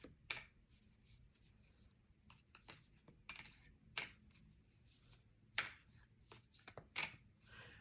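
Inner Temple Oracle cards being shuffled by hand, with quiet, irregular bursts of papery rustling and soft card slaps spread over several seconds against a low background hum.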